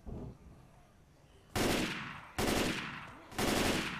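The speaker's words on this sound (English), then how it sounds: "You can't even shoot him through the doorway, Morty." Gunfire in the zombie shooter game Left 4 Dead: three loud, sharp bursts about a second apart, each ringing out and fading briefly before the next, following a quieter stretch of game ambience.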